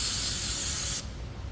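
Brake cleaner sprayed from an aerosol can onto a rag while servicing a 2002 Chevrolet Silverado rotor: one loud, steady close-up hiss that cuts off abruptly after about a second, leaving quiet background.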